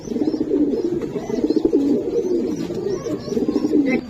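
Racing pigeons at a pigeon farm coo steadily and close up, several birds overlapping in soft, throaty rolling calls that carry on without pause.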